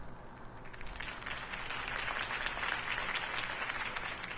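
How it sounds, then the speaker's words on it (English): A crowd applauds after a campaign speech, a broad, sustained patter of clapping heard from a distance at moderate volume, building slightly and holding steady. "could have heard that applause"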